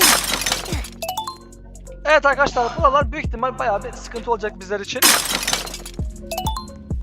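Glass shatters in a Roblox glass-bridge game, with two sharp, bright crashing bursts, one at the start and one midway, while someone talks over the game sounds.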